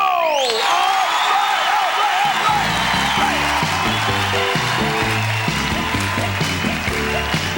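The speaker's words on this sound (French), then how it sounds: "vous nous fassiez des applaudissements des plus dynamites" Loud, steady applause with cheers and whoops from the audience at a live stand-up comedy show, filling the whole stretch, with rhythmic music kicking in underneath after a couple of seconds.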